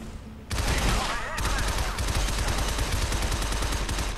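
Gunshots from the video game Shadow Complex fire in a loud, rapid, continuous stream that starts abruptly after a brief quiet moment and keeps pounding steadily to the end.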